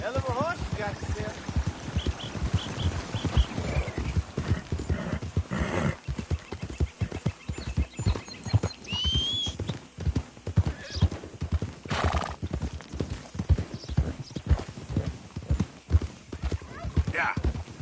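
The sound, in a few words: horse hooves and neighing, from Red Dead Redemption 2 video game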